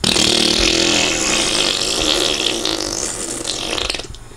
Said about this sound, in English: I thought I was going to do a great big tromboner of a fart